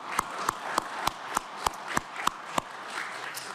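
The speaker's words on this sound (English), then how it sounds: "Give him a round of applause." An audience at a neighborhood launch event in a meeting room claps in a steady, evenly spaced rhythm of sharp, fairly close hand claps over a quiet room for a few seconds.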